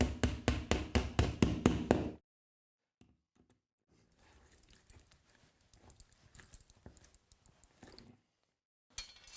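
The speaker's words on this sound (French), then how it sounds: "Alors d'abord je perce. Je pose la cheville." A drill bores into a wall to set a wall plug for a radiator bracket, opening with about two seconds of loud, rapid, rhythmic hammering bursts, then quiet taps and scraping, and a brief loud burst at the end.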